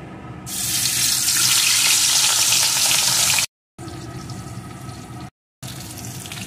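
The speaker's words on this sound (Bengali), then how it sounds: "এখন আমি লবণ হলুদ মাখানো মাছের টুকরোগুলোকে দিয়ে প্রথমে ভেজে নেব।" Katla fish pieces coated in salt and turmeric go into hot mustard oil, and a loud, close, steady sizzle rises at once and holds, broken by two short silent gaps.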